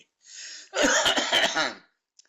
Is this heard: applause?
no